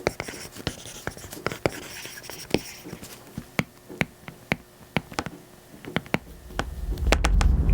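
Apple Pencil tapping and scratching on an iPad fitted with a Paperlike matte screen protector, sharp intermittent ticks and short scribbling strokes close up, ending in a louder rustling burst.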